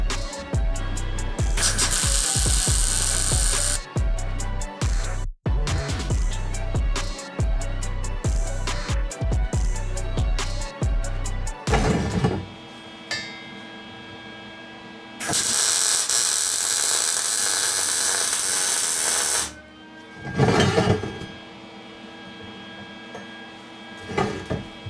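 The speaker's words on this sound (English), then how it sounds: "let's weld this again, and hopefully it'll be the last time I have to weld this." Welding on a crosskart frame for a street-legal Ninja H2 build, a loud steady crackling buzz in long bursts broken by pauses and short taps, with no talk.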